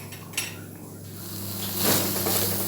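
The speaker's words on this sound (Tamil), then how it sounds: "மூடி போட்டு வேக வச்சுருங்க." Metal lid set onto a cooking pot of spleen fry, a short clink followed by a soft settling rattle over a low simmer, close and moderately loud.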